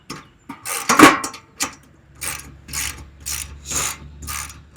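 Ratchet clicks sound in short repeated bursts as bolts are tightened on a 42-inch tow-behind lawn sweeper, close and fairly loud, with a few clunks of handling at the start.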